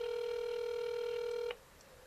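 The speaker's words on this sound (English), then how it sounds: "Come on, pick up the phone." An outgoing call on an iPhone gives a steady electronic ringback tone that holds for about a second and a half, then cuts off and leaves faint room noise.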